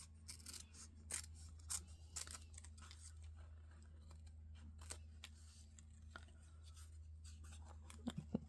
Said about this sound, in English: now I can cut away this excess piece here just with my scissors